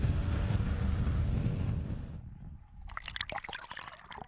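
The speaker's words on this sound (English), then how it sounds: "The world's largest falls now down to a trickle in places." Water at Victoria Falls on the Zambezi, reduced to a trickle by low water levels, splashes and dribbles steadily, a broad wash of noise that thins after a couple of seconds into scattered nearby drips and gurgles.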